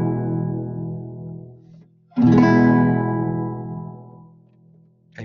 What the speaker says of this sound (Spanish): Del Mi menor vamos a saltar al Mi mayor.